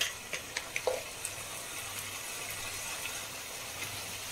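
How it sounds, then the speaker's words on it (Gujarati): Bottle gourd oḷo cooks in a pan over a low gas flame, giving a soft, steady sizzle with a few light ticks and pops near the start. The sound is faint and continuous, with no talking. "તો આપણે એક મિનિટ માટે હજી આને ધીમા ગેસે પકાવી લઈએ"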